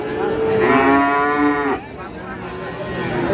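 A cross-breed bull at a cattle market gives a loud, drawn-out moo close by, rising then cutting off, followed by the hum of the busy market.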